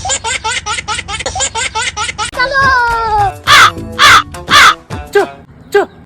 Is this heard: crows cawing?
yes